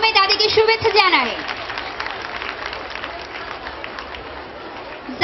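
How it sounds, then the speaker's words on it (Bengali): Audience applause at a school reunion ceremony, a steady wash of clapping from a crowd, with a brief voice at the start and mixed-in crowd chatter. "আমরা করতালির মাধ্যমে তাদেরকে শুভেচ্ছা জানাই"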